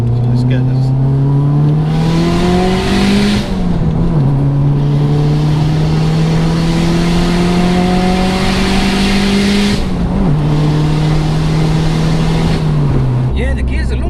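Tuned 500bhp Toyota Celica GT-Four accelerating hard through long gears, engine droning loudly and climbing slowly in pitch with two brief dips at gear changes, heard from inside the car with voices underneath.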